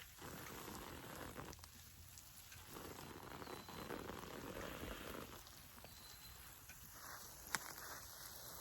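Garden hose spraying cold water onto cool-weather plants outdoors on a hot day, a steady close hiss and patter of spray on leaves and soil with brief dips in flow, alone without voices.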